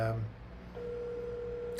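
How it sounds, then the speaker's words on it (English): Telephone call going unanswered, with a steady electronic ring or line tone holding after a brief start of voice, then a faint click near the end; moderately quiet and fairly close. "it looks like Stephanie's not answering the phone"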